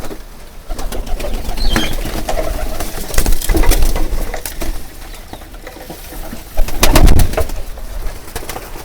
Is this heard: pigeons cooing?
yes